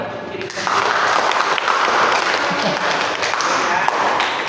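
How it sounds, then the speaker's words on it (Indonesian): A school class claps together at the end of a lesson, a fairly steady burst of applause lasting a few seconds with some voices mixed in. "coba kita beri tepuk tangan dong untuk menjadi"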